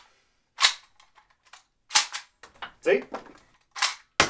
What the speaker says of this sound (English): Bolty is a 3D printed bolt action springer that fires half darts and ejects shells.